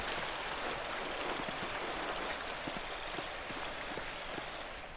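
A waterfall in the video game Pentiment gives a steady, broad rushing wash of water with no talk, even and unbroken throughout, fading slightly at the very end.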